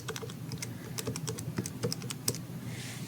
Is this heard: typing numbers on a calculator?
yes